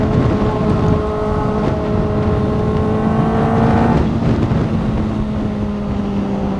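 A Kawasaki ZX-4R motorcycle engine revving loud and close, a sustained high-pitched whine with the pitch rising through gear changes, under wind noise.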